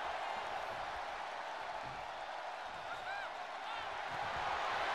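A broad, steady crowd roar with scattered applause fills a wrestling arena in WWE 2K23, held at an even level throughout and lightly swelling toward the end, with no voices standing out.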